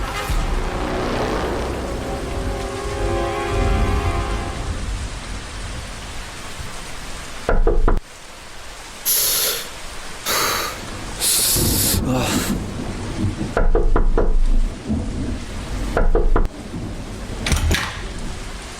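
A sudden heavy downpour of rain in a forest, steady broadband hiss with loud bursts and abrupt cuts as the scene changes, heard alongside voices and music; thunder is not distinct.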